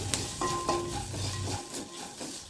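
Peanuts, already fried once, crackle and sizzle in hot oil in a pan for extra crispness, with steady frying noise, occasional stirring scrapes and a sharp clink at the end.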